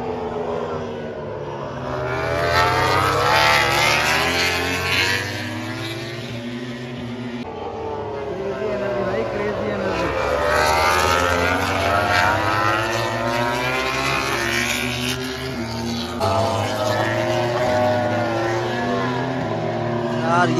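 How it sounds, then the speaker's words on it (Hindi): MotoGP race bikes scream past during a practice session at the Bharat event in India, their engines rising and falling in pitch as each machine sweeps by in repeated waves. "अभी जो प्रैक्टिस हो रही है वह है मोटो जीपी की, और इसमें बाइक्स जो है वो अलग ही क्लास की है"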